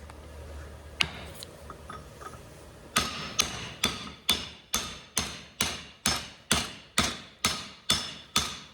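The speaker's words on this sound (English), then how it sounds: "So I'm still forging these antler tips." Hammer forging steel deer antler tips: a few scattered taps, then a regular series of about a dozen loud, ringing blows struck close by at an even, steady rhythm.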